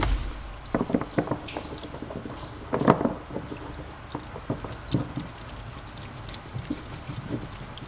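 Water dripping and splashing out of the tank of a pressure washer pump during an overhaul in a workshop, irregular close spatters and pours, louder in bursts and then thinning to scattered drips.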